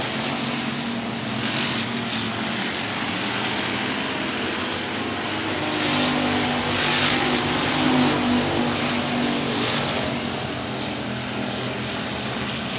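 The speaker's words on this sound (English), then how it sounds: "99T of Tyler Van Arsdale trying to work to the inside line out of turn number 2" Race cars at 105 Speedway roar continuously around the track during a regular race program, a steady engine drone that swells mid-clip as the pack passes closer, with no talk over it.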